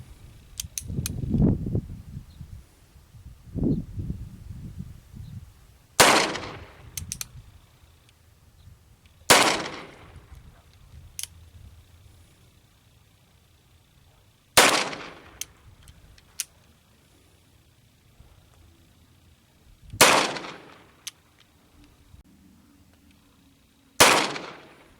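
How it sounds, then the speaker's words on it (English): Six sharp, loud gunshots from a Cimarron Richards Conversion Type 2 .44 Special revolver, fired one at a time several seconds apart, preceded by a couple of softer mechanical handling clicks. "what I'm going to do is just, for the hell of it, shoot 6 more rounds"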